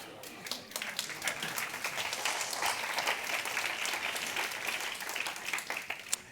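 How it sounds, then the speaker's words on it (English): Dense, steady applause from a large audience, many hands clapping together at an even level for several seconds. "He expected a round of applause."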